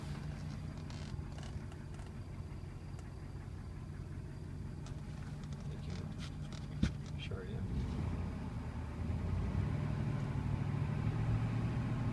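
A low, steady engine hum from a 1960 Bentley S2 long-wheelbase limousine runs quietly throughout, with a faint murmur of voices in the background.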